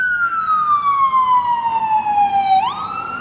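An ambulance siren on U Street wails loud and close, its single tone gliding slowly downward for over two seconds before sweeping sharply back up, with no voices over it.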